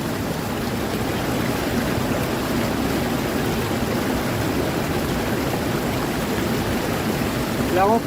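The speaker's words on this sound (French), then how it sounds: "Je vais commencer par remplir ma poche à eau" Water splashes and gurgles steadily while filling a soft water bag for a Sawyer Mini filter outdoors, a continuous, fairly loud rushing stream that holds level throughout.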